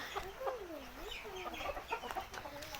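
White fighting rooster at a large cockfighting venue in Thailand, giving faint, wavering clucks and calls against low background noise.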